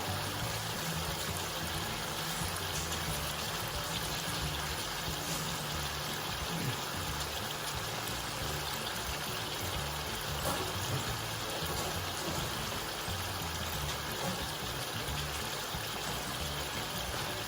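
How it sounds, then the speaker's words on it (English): Steady running water from a tap during handwashing, in a home kitchen while pork cooks, a continuous broadband rush that stays even and close throughout with no talk over it. "Let me wash my hands."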